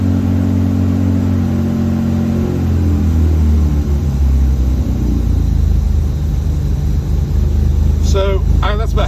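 1967 Austin Healey 3000 MkIII engine on half choke settling from a fast rev down toward a rough, rumbling warm-up idle, loud and close, with a voice talking over it near the end.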